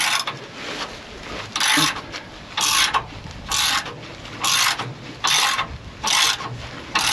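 A hand tool working to remove a part on a vehicle before fitting an electric power steering bracket, with repeated rasping, ratchet-like bursts of about a second each and brief pauses between, close and fairly loud, no talking.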